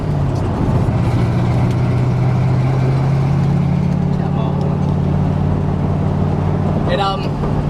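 Pickup bush truck running on heavy-duty steel wheels, its engine droning loud and close with a low steady hum throughout, rough and unbalanced while driving.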